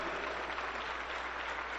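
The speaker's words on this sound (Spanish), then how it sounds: "un aplauso contento para el Señor Jesús" Dense applause from a church congregation, continuous clapping filling the whole moment at an even, fairly loud level.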